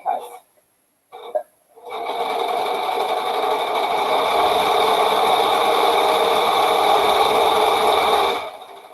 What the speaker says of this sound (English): I think I might run this through the serger real quick